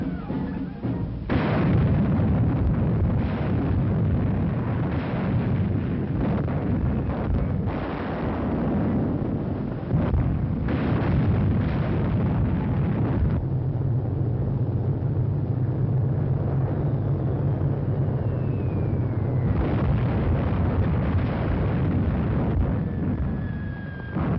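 Guns and tanks fire in a wartime battle from an old archival documentary. Dense, rumbling booms and blasts come one after another, loud and heavily distorted, with a low continuous roar between them.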